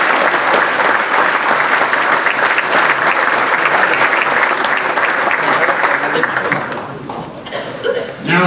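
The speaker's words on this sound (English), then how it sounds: "Let's give one more round of applause for all these coaches and their special victory clubs." Audience applause fills a hall at a baseball hall of fame induction ceremony at the Sheraton in Indiana, a loud, dense run of clapping that fades after about seven seconds, with a few chuckles and voices in the lull.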